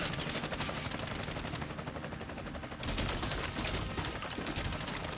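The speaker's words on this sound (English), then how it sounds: "I'm under heavy fire." Heavy automatic gunfire in the action video game Bright Memory, dense rapid bursts rattling continuously and loudly with a brief shift partway through.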